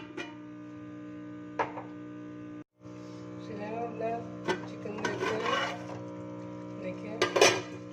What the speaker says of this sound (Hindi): अभी ढकना रखूंगी और चिकन गलने तक मैं इसको पकाऊंगी